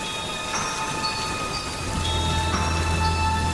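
Steady rain falls outside a house, a continuous hiss of water heard close, with faint tonal hums running underneath and no voices.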